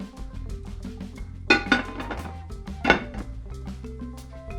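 A lid goes onto a cooking pot of chopped tomatoes, sounding as two clear metallic clinks over a low, steady kitchen background.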